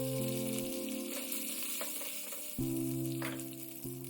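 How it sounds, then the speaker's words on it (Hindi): Chana dal and curry leaves frying in hot oil as a tempering for fresh South Indian coconut chutney, a close, steady sizzle and crackle with no talk over it. "चना दाल रोस्ट होने के बाद करी पत्ता को भी तोड़ के डाल देंगे।"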